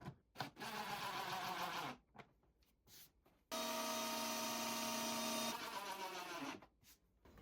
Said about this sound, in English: I'm pre-drilling thinner holes for those screws to bite into the mantel below.